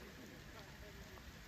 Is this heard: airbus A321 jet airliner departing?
no